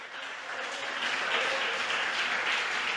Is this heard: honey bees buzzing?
no